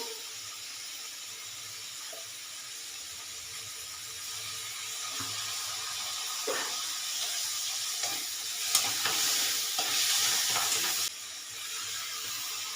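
Paneer stir-fried in a pan with tomato sauce and soy sauce gives a steady moderate sizzle with scattered spatula scrapes and taps, swelling into a louder, hissier burst near the end.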